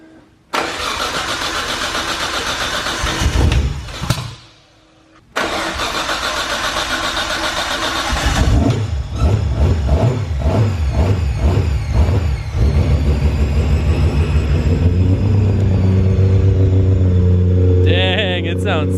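A Nissan RB26 single-turbo engine cranks and fires up for its first start, then revs in repeated throttle blips before settling into a loud, steady idle up close, with people talking briefly over it.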